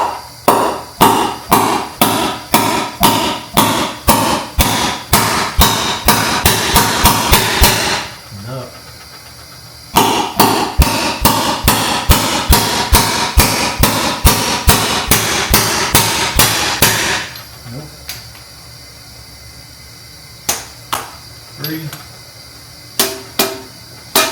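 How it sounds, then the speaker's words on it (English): Hammer tapping the valve spring keepers on a Honda Civic cylinder head to free them: rapid, loud metallic blows in steady bursts, with short pauses between runs and a few sparser, softer taps toward the end. Close and without talk. "We'll just listen and see if these keepers are free"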